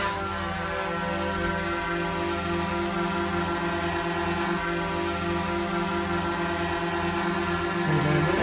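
A small indoor drone whirs steadily as it lifts off and hovers close by, its tiny rotors producing a continuous high, buzzing drone with no talking.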